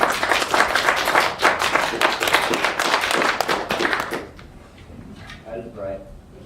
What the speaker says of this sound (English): So give them a warm round of applause and be supportive